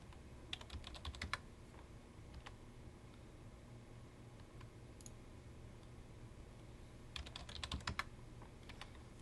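Quiet clusters of computer keyboard keystrokes tap out short bursts of typing, with a flurry near the start and another toward the end, separated by a few isolated clicks in a hushed room.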